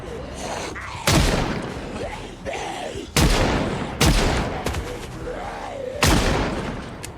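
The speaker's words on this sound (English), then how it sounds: "I do like a double-barreled shotgun." Double-barreled shotgun blasts in the Project Zomboid zombie game, three loud booming shots spaced a couple of seconds apart, each with a sharp crack and trailing rumble, with game sounds between them.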